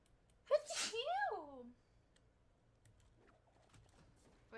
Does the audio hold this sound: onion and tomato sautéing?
no